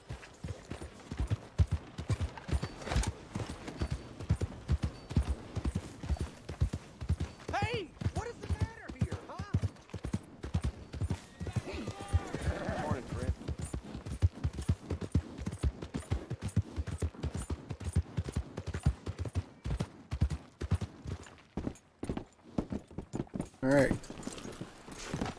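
Hooves of a horse-drawn wagon clop steadily in Red Dead Redemption 2, a brisk continuous rhythm of close hoofbeats throughout, with a brief whinny or creak now and then and a voice speaking over it.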